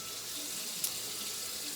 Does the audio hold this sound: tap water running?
yes